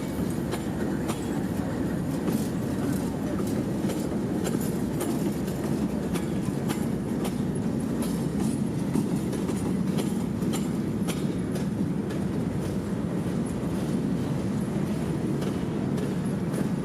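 CSX freight train M442, led by locomotives CSX-15 and CSX-39, rolling past at night in Tampa, Florida, with a steady close rumble of wheels and rail cars and a faint rhythmic clatter.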